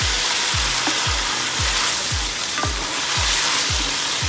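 Shrimp paste (alamang) fries in oil for pinakbet while a utensil scrapes the pan, a dense steady sizzle over a regular rhythm of low scraping strokes about twice a second, with no voices.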